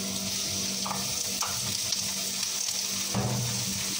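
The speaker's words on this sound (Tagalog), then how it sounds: "gisahin natin yung onion guys" Sliced onion sautéing in a pan with steady sizzle and frying hiss, a few stirring scrapes breaking through now and then; no talking.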